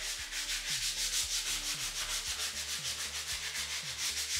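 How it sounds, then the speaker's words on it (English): Sandpaper rubbing on 3D printed plastic bulldozer parts, a steady close rasping scrape repeated in quick back-and-forth strokes with no voices. "Now we sand the two pieces."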